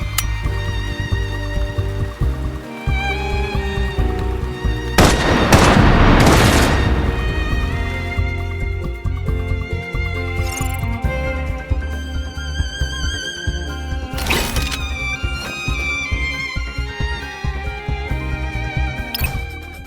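Booming bursts of gunfire and explosions in the game Love and Deepspace layered over a synthesized music track, with a few heavier blasts standing out.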